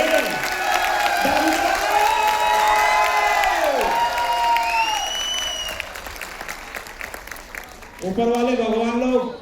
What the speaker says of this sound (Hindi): तो एक बार जोरदार ताली ऊपर वाले के नाम पे होनी चाहिए यार, दमदार वाली ताली होनी चाहिए।